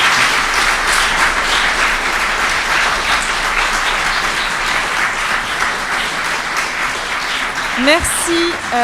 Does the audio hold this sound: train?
no